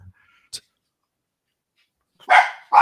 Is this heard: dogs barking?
yes